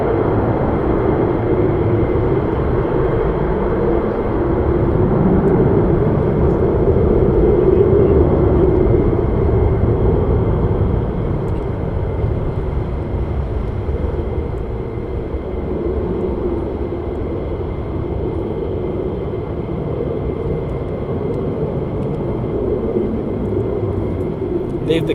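A continuous loud jet roar from fighter aircraft taking off at RAF Lakenheath, swelling and easing slightly over a long stretch.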